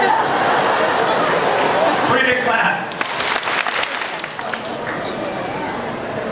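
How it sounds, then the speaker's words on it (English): A school general assembly audience claps together in a dense, continuous wash of applause, with crowd chatter and a little laughter mixed in. "3 big claps."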